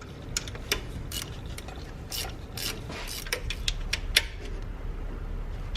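Ratchet wrench tightening size 12 bolts while refitting a bracket during alternator replacement on a Kia Soul; steady close rapid clicking with sharp louder ticks, no talk.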